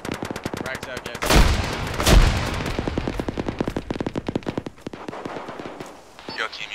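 Frag grenades burst amid rapid automatic gunfire in the Arma 3 military shooter, two heavy blasts early on over a long rattling stream of shots, with team voices talking over the combat.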